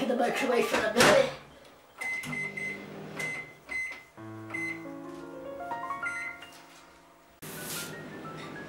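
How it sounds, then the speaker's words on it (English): A microwave oven heating a sponge pudding mixture hums steadily at close range after a few short button beeps, with voices speaking briefly before and after. "Let's put it back in the microwave for a minute."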